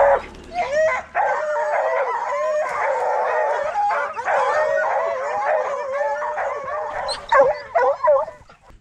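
Several dogs howl, yip and whimper together in a sustained, loud chorus during a bobcat hunt, with barks breaking through near the end.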